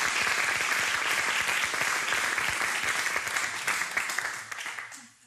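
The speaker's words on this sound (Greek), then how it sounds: "Άλλο ένα χειροκρότημα σε εσάς." Loud, dense applause from a television studio audience thanking a group of female dancers, sustained and then thinning toward the end.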